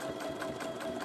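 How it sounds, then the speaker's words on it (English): Steady close whir of a sewing machine stitching binding onto a quilt, a brief continuous run with quick regular needle pulses. "I'm just going to do a back stitch and stop it there."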